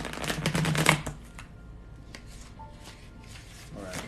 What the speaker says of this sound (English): That was a very, very ugly shuffle.